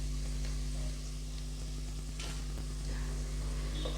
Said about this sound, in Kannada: ಇದು ಹಾಗೆ ಚೆನ್ನಾಗಿ ಫ್ರೈ ಆಗಲಿ ಹಸಿ ವಾಸನೆ ಎಲ್ಲ ಹೋಗೋವರೆಗೂ ಹಾಗೆ ಫ್ರೈ ಮಾಡ್ಕೊಂಬಿಡಿ